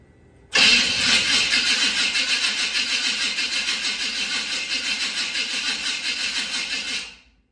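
A Chevrolet C10 pickup's engine cranks and fires after the carburetor is primed, catching abruptly and then running steadily at a loud, close idle with a rhythmic pulsing for several seconds before cutting off.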